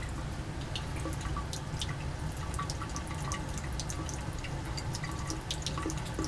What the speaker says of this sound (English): It's actually dripping and kind of hitting the wall of the Claisen adapter and then dripping down the side of the flask